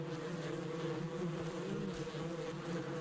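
A faint, continuous bee buzz drones steadily with a low background hum, quiet and unbroken for a few seconds, in the video game Ranch Simulator.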